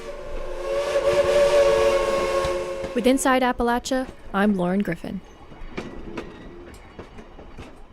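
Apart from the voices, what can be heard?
antique steam train at Cass, West Virginia, whistle and running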